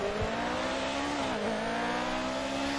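Formula 1 car engine from the F1 2018 racing game at a race start, a loud sustained high-pitched whine with rising and falling pitch sweeps as the car accelerates and shifts, continuous with no talk.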